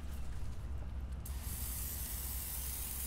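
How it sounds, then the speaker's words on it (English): Easy Off oven cleaner hisses from an aerosol can in one steady spray as it coats plastic model kit parts, close and fairly quiet over low background rumble. "So I'm just going to coat all of these parts with the Easy Off Oven Cleaner"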